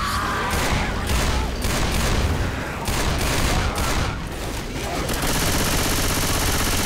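Rapid, dense gunfire from several weapons in the zombie co-op shooter Left 4 Dead 2, loud and continuous with bursts of automatic fire and a brief lull near the end, with voices faintly underneath.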